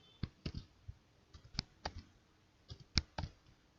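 Computer keyboard keys clicked in short irregular taps, a dozen or so crisp presses spread over a few seconds, close and fairly quiet, with no voice.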